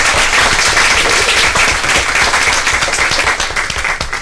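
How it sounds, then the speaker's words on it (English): Loud, sustained crowd applause at a school board meeting for the state champion volleyball team, dense clapping filling the room from start to finish and tapering slightly at the end. "would you all please give a great round of applause for our state champion volleyball team"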